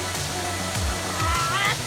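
Water pours and rushes steadily at Blue Basin Waterfall in Trinidad, seen from above the falls, a continuous broadband roar with faint voices in the background.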